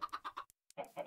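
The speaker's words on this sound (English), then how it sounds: "I'm gonna do is simply gonna try to get some baby chickens going with the eggs" Minecraft chickens cluck near and clear, a quick run of four clucks, a short silence, then several more.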